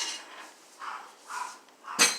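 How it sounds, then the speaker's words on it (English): A Dutch oven full of chili is lifted from a kitchen oven: a few soft metallic scrapes and bumps, then one sharp clank of the heavy pot, close and fairly quiet. "we're going to take the Dutch oven out of the oven"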